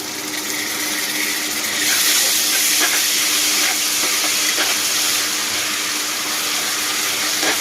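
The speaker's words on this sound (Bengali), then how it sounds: "আদা রসুন বাটাটা দিয়ে একটু ভেজে নিচ্ছি যাতে করে কাঁচা ফ্লেভারটা চলে যায়" Ginger garlic paste frying in a pan after onions, a continuous close sizzle and hiss with soft stirring scrapes, steady and fairly loud, with no talking.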